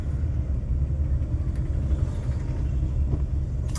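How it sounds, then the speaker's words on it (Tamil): Road traffic queues at a railway gate, its idling and crawling vehicles producing a steady, close, low engine rumble with no pauses. "ரயில்வே கேட்டுக்கு இங்கே இவ்வளோ பாருங்கள் எவ்வளோ டிராஃபிக் பாருங்கள்"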